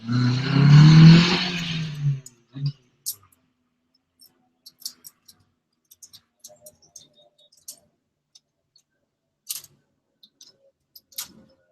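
The F20C engine of a 2001 AP1 Honda S2000 pulls hard in one short, rising surge, then falls away to near silence broken by faint scattered ticks.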